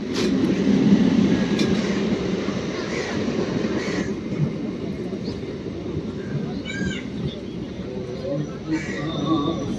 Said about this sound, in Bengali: তো চলো ট্রেন আসুক